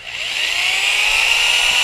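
A power drill bores through a fishing rod grip during rod building, giving a steady high whine that holds loud and close for the whole stretch, without speech.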